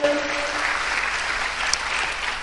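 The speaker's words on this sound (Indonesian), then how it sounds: "Tepuk tangannya paling meriah." Audience applause at a church gathering, a steady dense wash of clapping that holds evenly for a couple of seconds, near and fairly loud, with no voices over it.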